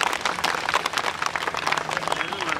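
Rickshaw drivers and owners at a protest rally outside the Borivali transport office clap in a dense, sustained round of applause to welcome Abhijeet Rane. The many hands make a busy, steady patter of claps.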